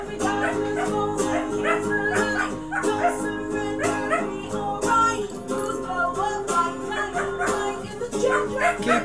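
A dog yips, barks and whimpers along with a song, its cries rising over steady music with sung vocals for the whole stretch.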